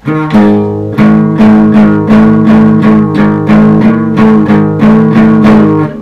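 An out-of-tune acoustic guitar barre chord strummed repeatedly in an even rhythm, each strum ringing loud and close with a sour, clashing sound.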